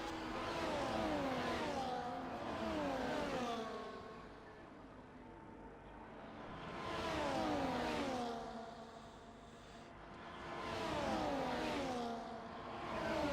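Several 1.6 litre V6 hybrid F1 cars roar in a racing video game, engine notes rising and falling in three loud sweeping waves as cars pass, with no talk.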